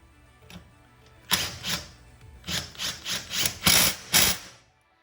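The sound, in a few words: removing bolt and cover from Hitachi NR83 nailer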